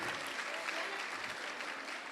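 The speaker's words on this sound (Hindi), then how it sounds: "सभी बच्चों का तालियों द्वारा स्वागत करिए।" An audience at a religious satsang gathering claps to welcome children, a continuous even patter of hands heard from some distance at low level.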